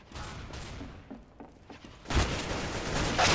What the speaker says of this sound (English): The Mag 7 is a shotgun.